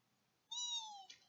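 A cat gives a single clear, drawn-out meow, rising then falling and ending in a brief rougher tail, alone against near silence.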